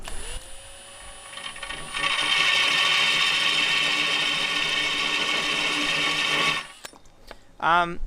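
A hole saw drill whines and then grinds loudly at a steady pitch for several seconds while water is squeezed from a bottle onto the cut, stops, and a short warbling sound follows.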